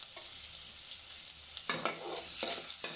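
Garlic and ginger paste fry in four tablespoons of soybean oil for a small-fish curry. A quiet hiss swells into a louder, crackling sizzle partway through as stirring strokes start.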